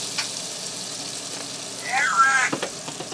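A stick of butter and a little olive oil sizzle softly in a large skillet over low heat, a constant close hiss, joined near the end by a brief whining tone and a few sharp clicks.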